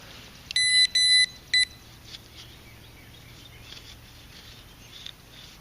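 A Fisher F70 metal detector gives a few short, sharp electronic tones close by while sweeping a grassy public park, followed by faint rustling and quiet outdoor ambience.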